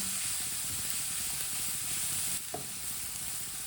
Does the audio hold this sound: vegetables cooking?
yes